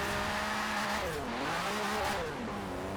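A Ferrari F50 with a V12 engine in Forza Horizon 4 howls loudly and steadily, its pitch rising and falling with tire squeal and skidding as the car drifts, with no talk over it.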